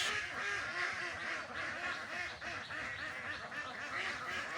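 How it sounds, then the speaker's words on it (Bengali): Ducks on a farm pond keep up a continuous, overlapping chorus of quacks at moderate distance, with busy splashing and water noise underneath. "আর হাঁসগুলো দেখেন কত সুন্দর চঞ্চল"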